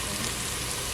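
Okra frying in a pot of hot oil, a steady close sizzle with fine crackling throughout and no talking.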